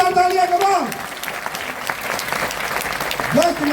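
Loud, dense applause fills a large hall at a leadership programme event, with cheering voices and a speaker on a microphone talking over the clapping at start and end.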